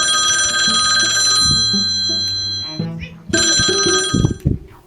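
A telephone ringing loudly and close, a sustained electronic ring in two long bursts separated by a short pause, over brief background sounds.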